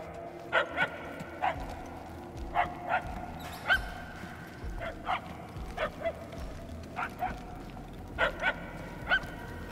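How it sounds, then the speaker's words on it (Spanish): Dog barks echo in Marvel's Guardians of the Galaxy video game, a series of distant, fairly faint yips and barks arriving in short clusters over a low ambient hum, with occasional whimpering tones. "Nos alejamos del origen de los ladridos."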